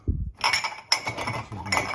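Dirty plates with dried-on food clinking against each other as they are handled, a few sharp close ceramic knocks and rattles in quick succession.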